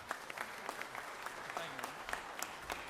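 A room of people in the Georgia Senate chamber claps for a head coach, fairly faint and steady applause with scattered louder individual claps throughout.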